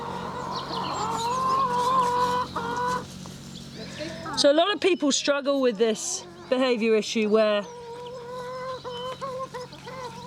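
Chickens cluck and squawk in short bursts, loud and close, with someone talking over the start and a steady hum underneath.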